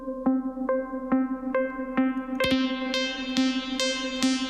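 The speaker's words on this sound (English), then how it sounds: "And then some saw waves with some filter." Sustained synth saw-wave notes passed through a filter in a future bass production, a steady bright harmonic drone with rhythmic plucked hits that grow brighter and denser as the filter opens.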